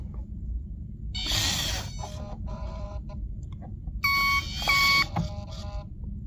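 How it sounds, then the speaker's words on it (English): Electronic beeping tones sound in short bursts, a repeating ticking right turn signal effect with rising chirps, played from the small speaker of a Turbo Racing 1/76 RC semi truck over a background hum. "There we go with the right turn signal."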